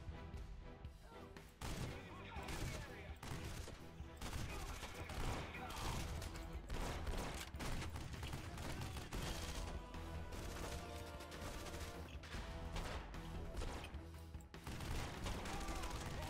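A new weapon in the action game Red Faction: Guerrilla fires continuously, with dense bursts and heavy thuds over constant crashing destruction, loud and sustained, and faint talk mixed in.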